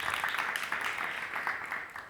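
Audience applause at a publication presentation event, a steady wash of clapping hands filling the room without a pause, fairly faint and distant, with no talk over it.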